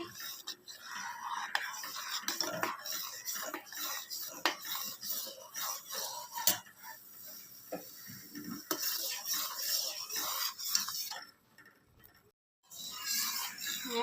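A sweet mixture with sugar being stirred continuously in a pot, a spoon scraping and clinking against the metal in an unbroken rhythm, close and moderately quiet, with a short pause near the end.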